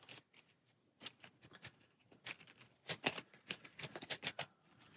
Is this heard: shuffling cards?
yes